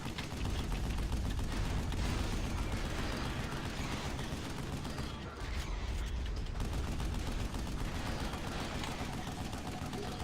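Sustained gunfire in the Vanquish game, dense rapid automatic bursts with mechanical clatter and impacts, loud and continuous across the whole stretch.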